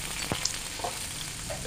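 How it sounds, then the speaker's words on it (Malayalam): Dried red chillies fry in coconut oil with a soft, steady crackling sizzle, fairly quiet and close, with a couple of faint light pops. "ഒന്ന് വറുത്തെടുക്കുക ആ വെളിച്ചെണ്ണയിൽ തന്നെ"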